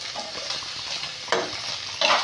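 Cumin seeds fry in hot oil with a soft, continuous sizzle, then two sharper, louder crackling bursts as more seeds hit the oil, close and brief.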